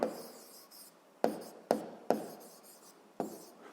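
A pen writes on paper during a sixth-grade maths exercise, giving a soft, continuous scratch broken by several sharp taps as the pen touches down for new strokes, close and quiet, with no voices.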